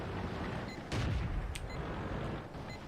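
A single booming shot from an SU-76I tank destroyer's gun in World of Tanks, with a sharp blast about a second in that rolls off over a steady rumble, and no voices.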